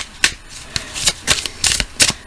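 A deck of tarot or oracle cards is shuffled by hand, close up, in several quick bursts of riffling and flicking.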